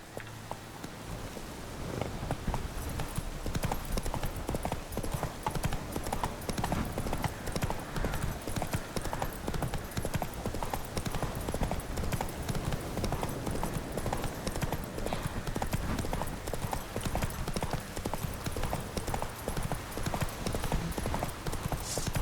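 Horse hooves clip-clop steadily throughout in The Witcher 3 video game, a close, continuous trotting rhythm over a busy game soundscape, with a brief horse snort or whinny at moments.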